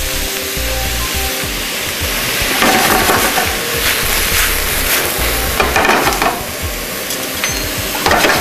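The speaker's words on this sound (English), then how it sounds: "and start sauteing" Sliced mushrooms sautéing over diced onions in a hot pan give a steady, close sizzle and frying hiss, with stirring scrapes and clatter that swell in bursts throughout; nobody speaks.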